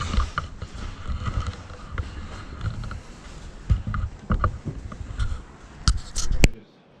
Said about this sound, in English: Get the rest of the packaging off.